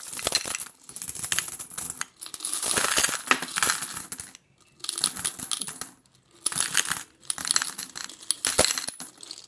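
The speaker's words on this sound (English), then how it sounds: "You can use any kind of coins." Coins are dropped into a container in several separate bursts, each a close, bright run of metallic clinks and jingles with short pauses between handfuls.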